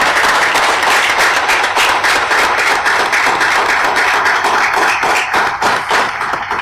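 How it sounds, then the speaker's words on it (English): A large crowd at a naval shipyard change of command ceremony applauds loudly and steadily, dense clapping filling the whole stretch without a break or any voices. "how about a round of applause for all of our shipyard workers?"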